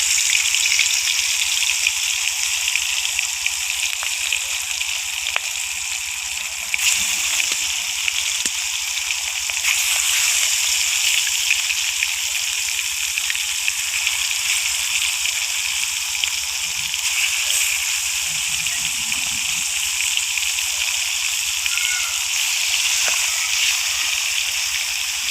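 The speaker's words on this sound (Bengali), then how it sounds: "মাছগুলো আমার সব ভাজা হয়ে গেছে" Fish frying in hot oil in a pan give a constant bright crackling sizzle, steady and close throughout, with faint occasional spatters and movement beneath it.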